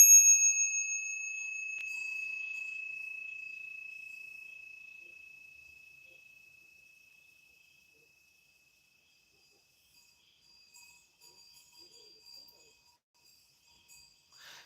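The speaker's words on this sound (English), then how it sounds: "why not detach from the mind and take refuge in the sound of the bell?" A single mindfulness bell is struck once, its clear metallic ring sustaining with a high pure tone and slowly fading into silence over several seconds, followed by faint small sounds near the end.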